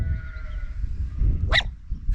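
A single sharp dog bark rings out nearby on a hillside hike, standing above a steady rumble of wind and outdoor ambience, with a low drawn-out tone fading in the background.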